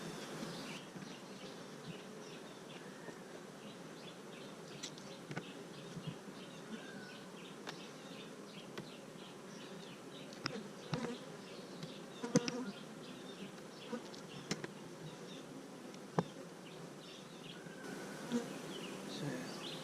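Honey bees buzz around an open hive during an inspection, a dense, continuous hum with individual bees zipping close by and occasional soft clicks and knocks of handling.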